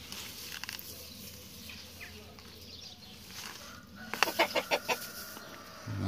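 Chickens cluck nearby in a quick run of repeated calls, over a low outdoor background.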